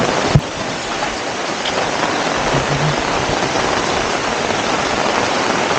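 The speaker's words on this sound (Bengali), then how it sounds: "অনেক বৃষ্টি, আমি ভিজে যাইতেছি" Heavy rain pours down in a dense, constant roar on a house surrounded by trees, loud and close, with a single sharp knock near the start.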